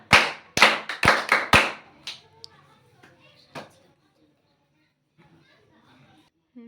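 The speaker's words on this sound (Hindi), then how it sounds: "अपने अंश भैया के लिए तालियां भाई" A short burst of about five sharp hand claps for Ansh, loud and close, followed by one more clap and then quiet murmuring voices in a hot outdoor Ramayana gathering.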